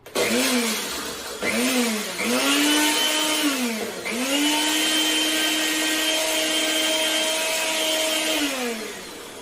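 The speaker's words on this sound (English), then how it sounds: "I'm going to grind these up into like a flour" Oats are ground into flour in a blender: a few short bursts of motor whine, then one sustained high grinding roar that drops off at the end, loud and close, with no talk.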